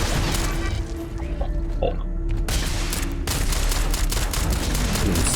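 Gunfire crackles in the video game Starfield, a dense, continuous barrage of loud shots and impacts with a brief lull partway through before the firing intensifies again.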